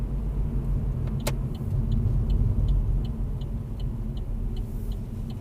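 A car turns left onto a main road at traffic lights during a driving test, with a steady interior engine and tyre rumble, a brief sharp click, and a faint repeating indicator ticking.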